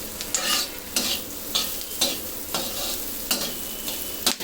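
Steady frying sizzle of onions in a pan with regular scraping stirs roughly every half second, close and moderately loud, no voices.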